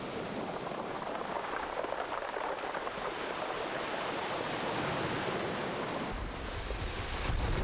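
Sea waves wash over a pebble beach of smooth black stones at Wando, a continuous hiss and rush with gusts of wind, swelling a little louder near the end.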